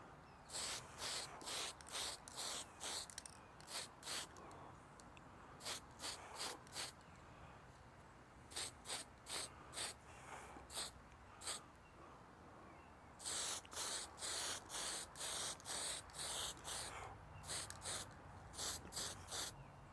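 Short, quiet hiss bursts from a spray can land on a Revell 1971 Mustang Mach 1 model car body. The light spurts repeat steadily at close range against a faint background.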